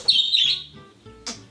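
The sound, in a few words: birds chirping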